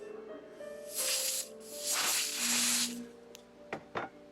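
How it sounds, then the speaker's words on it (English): Two hissing bursts of aerosol freeze spray on a Luxman RV-371 receiver's circuitry to trace center-channel static, a short one then a longer one, followed by a couple of sharp clicks. "when I hit it with the freeze spray"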